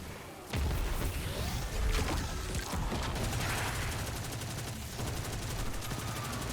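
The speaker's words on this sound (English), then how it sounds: "I'm going to be using the Parasite grenade launcher." Parasite grenade launcher firing in Destiny 2, used by a Hunter during a legend Lost Sector run: dense, loud combat noise with repeated blasts and impacts running continuously after a short quiet start.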